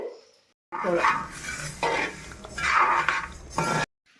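Washed coriander seeds roasting in a bronze vessel, stirred with a utensil that produces bursts of rattling, scraping and rustling, close and moderately loud, ending abruptly.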